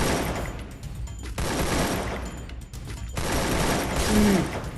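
Dense bursts of automatic gunfire fill a Free Fire battle, rapid and loud, in long stretches broken by short gaps, with a brief mechanical whine near the end.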